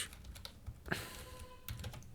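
Quiet, scattered keystrokes on a computer keyboard, with a brief louder clack partway through, then a few more taps.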